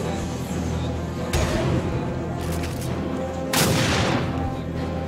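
Enemy gunfire in the Captain America: Super Soldier video game, two heavy booming shots about two seconds apart over a dense, continuous game soundscape of rumble and effects.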